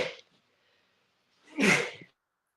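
A loud, close single sneeze bursts out after a short faint sound and near silence, during a casual basketball-league game session among friends.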